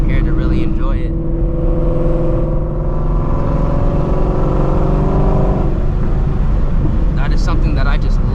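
A Shelby GT350 Mustang engine drones and revs from inside the car while it is driven, rising through a steady climbing pull before easing off. Someone talks over the engine near the start and again at the end.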